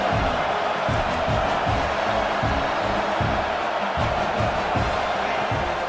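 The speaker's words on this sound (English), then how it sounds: "This crowd bringing the energy and noise early" A stadium crowd at a Penn State versus Illinois football game roars steadily and loudly throughout, a dense and continuous wall of cheering and noise.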